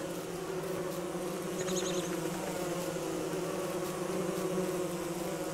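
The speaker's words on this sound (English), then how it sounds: "So long as I don't get surrounded by too many bees," Bees buzz in the Don't Starve video game, a steady, dense insect drone that carries on without a break at moderate loudness, with no talking.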